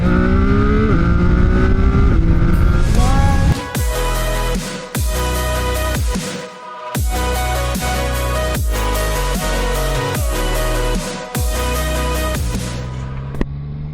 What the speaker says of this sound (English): This is the CFMOTO 675SR-R. Finally I'm on this bike.